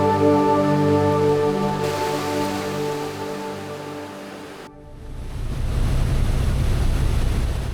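Sea between Luzon and Mindoro heard from a boat: a tonal engine hum gives way to rushing, windy wave noise that swells loud and steady.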